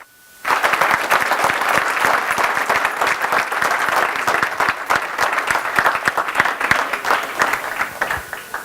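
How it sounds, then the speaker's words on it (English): A crowd bursts into loud applause at the close of a keynote speech, many hands clapping densely and steadily, starting suddenly after a brief silence and continuing to the end. "the applause came a little bit early"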